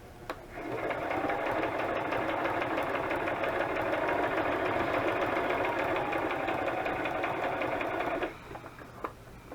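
A sewing machine whirs in one steady, continuous burst of stitching for about eight seconds, then stops, leaving a few faint clicks.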